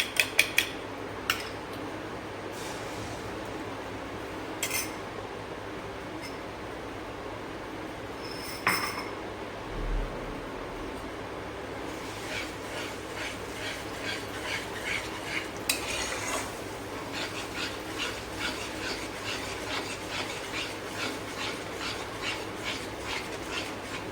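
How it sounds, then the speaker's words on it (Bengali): An egg being beaten with salt, pepper and chilli powder in a bowl, with scattered clinks at first, then a fast, even run of utensil taps against the bowl that grows steadier toward the end. "ডিমটা নুন আর একটু গোলমরিচ গুঁড়ো, লঙ্কা গুঁড়ো দিয়ে ফেটিয়ে নিচ্ছি।"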